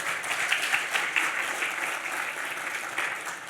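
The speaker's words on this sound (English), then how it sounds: "Congratulations, round of applause." An audience applauds speakers at a public event about Auckland, producing a steady wash of clapping at moderate volume that holds for several seconds without talk.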